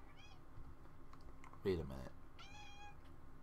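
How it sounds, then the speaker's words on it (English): A cat meows indoors: a short, thin call near the start and a longer, rising one near the end, with someone briefly speaking between them. "That is a cat in the house of cats."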